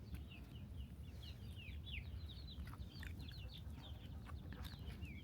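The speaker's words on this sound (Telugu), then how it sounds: "పెద్ద కోళ్ళని ఇందులో ఉంటాయి. ఇవి జాతి కోళ్ళు, ఇవి కోడి పందాలకి." Native fighting-breed chickens kept on a farm cluck and chirp in bursts, several birds overlapping at a moderate distance over a steady low rumble of background noise, with no one talking.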